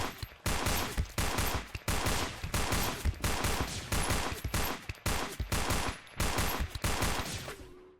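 Rapid bursts of gunfire empty a magazine into a droid in the space station game SS14, loud and close, with repeated volleys broken by brief pauses.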